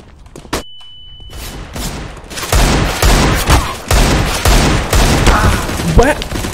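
Gunfire in the video game CS:GO: a single loud shot, then after a pause a sustained burst of rapid automatic fire with heavy booming impacts, loud and close, with a voice briefly underneath.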